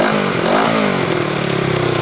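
A 33-year-old motorcycle engine runs steadily at a low, even rumble, close by and alone, with no voices over it.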